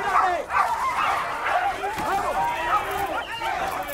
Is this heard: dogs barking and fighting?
yes